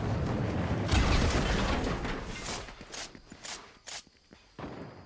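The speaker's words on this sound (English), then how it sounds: "Heard the gunshot on the mountain." A gunshot in an online shooter game, booming loudly at the start and then giving way to sharper, closer cracks and mechanical clicks of weapon handling that come in short bursts.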